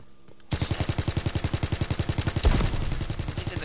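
Sustained automatic gunfire in a multiplayer shooter game, a rapid steady burst of close, loud shots that breaks into a heavier blast and denser clatter near the end.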